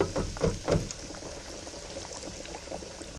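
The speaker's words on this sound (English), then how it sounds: "So I'm going to lower them in and just give them a nice low and steady fry." Crispy pheasant burgers lowered into a deep fryer for a low, steady fry: a few strong bubbling surges at the start, then settling into a continuous soft bubbling hiss with no talk.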